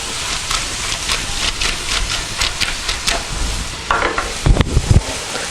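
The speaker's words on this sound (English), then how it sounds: "we're going to kind of stir fry this for a little bit" Samosa filling stir-fries in a pan, with a soft steady sizzle and hiss broken by scraping stirs and clinks of the utensil, close and fairly loud.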